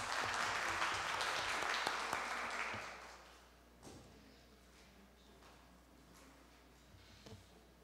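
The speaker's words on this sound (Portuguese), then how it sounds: "Uma salva de palmas para elas." Seminar audience applause for two speakers, loud for about three seconds and then quickly fading to scattered claps and room noise.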